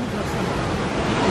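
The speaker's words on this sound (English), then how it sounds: "Then you got this beautiful waterfall over here." A waterfall at Disney California Adventure gives a steady, close rush of falling water, an even broadband roar with no pauses across the short stretch and no voices.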